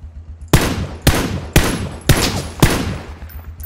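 Gunfire in the battle royale game PUBG: five loud, sharp shots or short bursts spaced about half a second apart, each with a ringing tail, heard close and alone with no talk.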